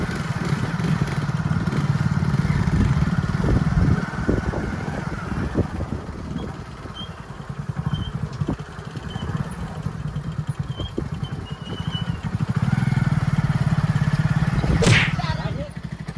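A motorcycle engine rumbling steadily nearby, its throttle rising and falling over several seconds, with a sharp crack near the end.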